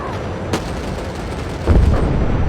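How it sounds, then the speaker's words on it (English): Gunfire and explosions in the mech combat video game Mecha Knights: Nightmare, with a sharp shot early on and a heavy, rumbling blast that rolls on loudly through the second half. "the explosions actually aren't bad"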